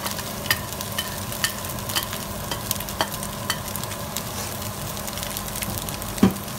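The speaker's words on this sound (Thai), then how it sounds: "อันนี้คือไข่ได้ที่แล้วเราก็ใส่ข้าวลงไปนะคะ" Rice and egg are stir-fried in a pan, with a steady soft sizzle and repeated scraping taps of the spatula at an irregular rhythm, close and moderately quiet, with no talking.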